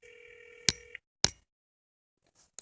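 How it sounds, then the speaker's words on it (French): A telephone line after a number is dialed: a steady tone cut by two sharp clicks, then near silence and a faint burst, heard close through the handset. "Ok le numéro est entré, on appelle."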